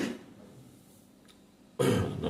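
A single harsh cough from someone with a bad cough bursts out close to the microphone near the end, after a stretch of quiet room noise.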